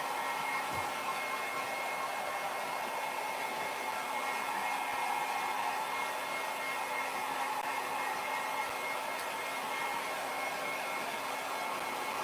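A hair dryer blows on acrylic paint, a continuous, even airy whoosh with a faint motor whine that holds steady throughout at a modest level, with no voices.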